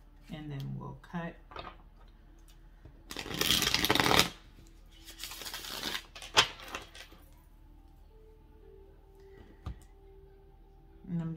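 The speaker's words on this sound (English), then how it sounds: "So I'm just going to go ahead and shuffle these real quick, okay?" Tarot cards being shuffled by hand, heard as two dense riffling bursts of a second or so each, followed by scattered light taps and handling sounds. A voice talks briefly at the start.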